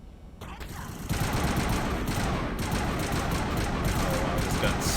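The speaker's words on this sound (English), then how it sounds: "this gun sucks in terms of accuracy" Rapid gunfire from an inaccurate gun in Mass Effect Legendary Edition rattles in dense, loud bursts after a brief quieter start, with someone talking over the shooting.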